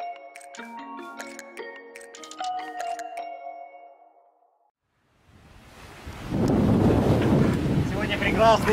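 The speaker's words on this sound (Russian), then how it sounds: "Солнечный ветреный день. Катамаран Шаман летит со скоростью 10-15 узлов прямо на Карибы." A catamaran races at 10 to 15 knots across the Atlantic toward the Caribbean on a sunny, windy day. After some soft melodic tones and a brief quiet gap, a loud, steady roar of wind and rushing water takes over.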